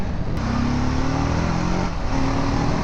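A TVS 300cc motorcycle pulls hard under acceleration, its exhaust note rising in pitch as the revs climb, heard close and steady from on board amid wind rush.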